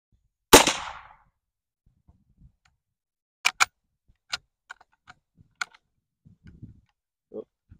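A Winchester Model 1892 lever-action rifle fires one sharp, loud shot at a target range that rings off quickly. A scattering of quieter, crisp mechanical clicks and knocks follows.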